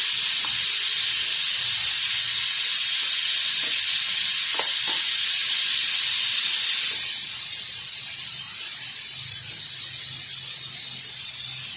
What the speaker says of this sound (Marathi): आता कारले पण छान परतून घ्यायची आणि कमी गॅस ठेवून